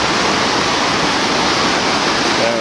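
A river rushes steadily through the Smoky Mountains, a dense, loud, continuous roar of flowing water close by with no break across the whole stretch.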